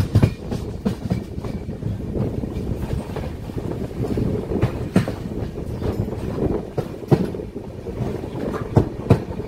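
The Kanchan Kanya Express runs on its rails: a steady loud rumble with rhythmic clickety-clack wheel beats over rail joints and occasional sharper knocks, heard from on board, with no voice.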